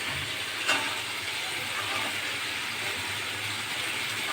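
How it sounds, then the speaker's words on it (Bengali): Onion stalks dropped into hot, fried-down spice paste in a pan for a spicy fish curry set off a steady broadband hiss and sizzle, with one brief louder crackle near the start, no talking. "এবার আমি এটা পেঁয়াজ কলিগুলো এটা দিয়ে দিচ্ছি"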